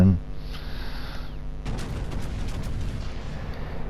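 Warship guns fire in a naval battle video game: a heavy broadband boom lands at about 1.7 s and rumbles on densely to the end, with an earlier tonal engine-like drone and a voice talking underneath.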